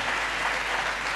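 Congregation clapping during a church prayer service, a brief, dense burst of many hands applauding at even volume with no gaps.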